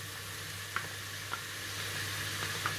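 Bacon frying in a pressure cooker pot for potato soup hisses in a soft, steady sizzle, with a few light clicks of stirring now and then.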